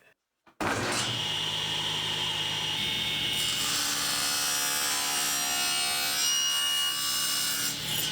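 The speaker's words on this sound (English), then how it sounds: "I want to cut an angle on the side so that the front edge is shorter than the back." After a brief quiet start, a power saw blade cuts an angle into a piece of wood with a loud, steady whining grind that holds for several seconds.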